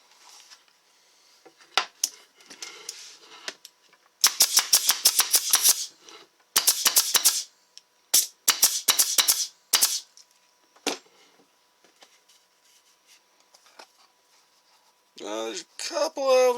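An Arrow PT50 pneumatic stapler fires staples in quick bump mode, giving loud, sharp bursts of rapid clacks in several clusters, with short pauses and some quieter single shots between them. A voice is heard briefly near the end.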